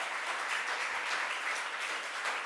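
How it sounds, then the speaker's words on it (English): A crowd at a governor's cost-of-living announcement gives a steady round of applause, moderately distant and even, a continuous patter of many hands clapping with no voices on top. "Let's give her another round of applause."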